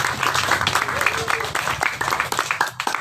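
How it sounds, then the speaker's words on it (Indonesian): Audience at a poetry reading competition applauding all participants, a dense burst of close clapping mixed with voices and chatter throughout. "Tepuk tangan untuk semua peserta."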